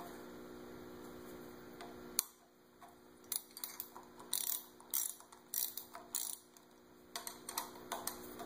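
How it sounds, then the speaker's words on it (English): A 10 millimeter wrench working on a Honda Grom front brake lever: quick bursts of crisp ratcheting clicks, close and fairly quiet, come in short repeated runs over a steady electrical hum. "you're going to use a 10 millimeter wrench"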